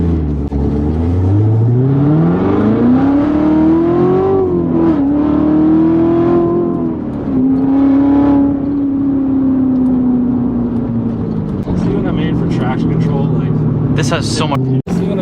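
A Corvette C7 Z06 with a 7-speed manual accelerates hard on the throttle: a loud, close engine roar climbs steadily in pitch, dips briefly at shifts, then holds a strained, sustained tone.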